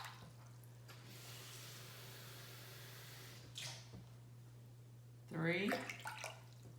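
Water poured from a cup into a bowl while mixing giant bubble solution: a steady, moderately loud rushing stream lasting a few seconds, then a short splash, followed by a brief burst of a person's voice.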